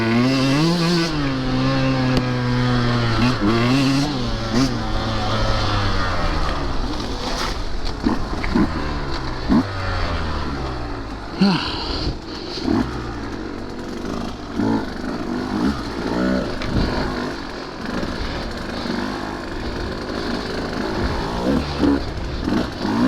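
A 2023 Husqvarna TE150 dirt bike ridden through woods, its two-stroke engine loud and close, rising and falling in pitch as the throttle opens and closes, with no talking.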